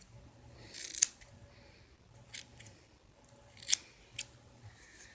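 Scissors trim hair bangs with a few sharp, close snips spaced a second or two apart, separated by quiet moments and faint handling noise.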